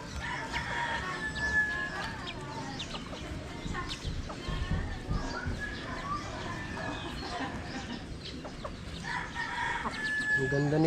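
Chickens cluck steadily throughout while a rooster crows a few times, with farmyard noise and occasional faint voices in the background.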